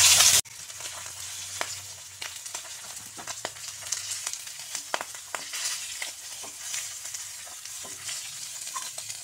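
Pieces of rohu fish sizzle and crackle steadily in hot oil, a dense frying hiss with scattered pops and spatters running continuously and close after a brief loud burst at the start.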